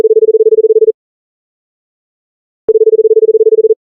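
A steady telephone tone heard while placing a prank phone call, in two bursts of just under a second each, separated by a long silent gap.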